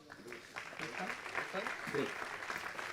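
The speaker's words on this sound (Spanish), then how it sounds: "Un aplauso." Audience applause at a Valencia innovation summit after a vice president is introduced, a steady wash of clapping under a brief announcer's voice.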